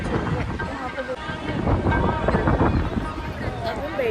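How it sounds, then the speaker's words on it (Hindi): Strong, gusting wind roars across an outdoor spot near water in Amritsar as a storm arrives, a dense, steady rush with buffeting against the microphone and faint voices underneath. "यहाँ पे देखो कितनी तेज हवा चल रही है"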